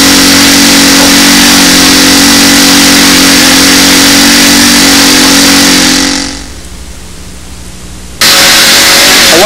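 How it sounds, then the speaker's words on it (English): A small model engine with a tuned pipe roars loudly and steadily at high revs during break-in, then cuts out into near silence for about two seconds before abruptly roaring back at full volume. "I want to tell you how pleasant it is to break these engines in."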